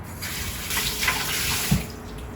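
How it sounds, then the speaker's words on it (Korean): Cold water runs steadily from a kitchen tap to cool a sterilized item just out of boiling water, a close continuous splashing rush with a brief louder splash near the end. "뜨거우니까 찬물에 식혀서"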